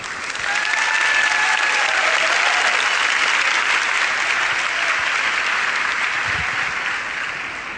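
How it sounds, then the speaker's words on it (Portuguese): A church congregation breaks into sustained applause after the Gospel reading, a dense wash of clapping that swells quickly and holds steady before easing off. "Pode aplaudir."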